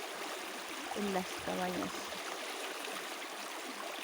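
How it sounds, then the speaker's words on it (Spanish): Clean water flows steadily along a canal on the shore of a lake near cabins, a soft continuous rushing trickle with a brief voice speaking over it. "¿A quién le encanta el sonido del agua?"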